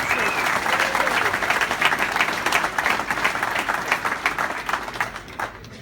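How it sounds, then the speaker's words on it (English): Audience at an awards gathering gives a strong round of applause for the runners, close, dense clapping that swells and continues for several seconds before thinning out near the end. "So let's give them a great round of applause."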